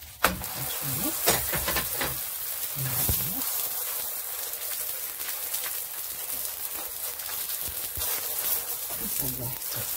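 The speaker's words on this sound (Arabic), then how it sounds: "دابا ندير واحد شوية الزيت من الفوق ونقلبو هاديك" Stuffed Moroccan msemen flatbread sizzles steadily in hot oil, a continuous close frying crackle with brief clatters as the dough is turned, while a voice speaks intermittently over it.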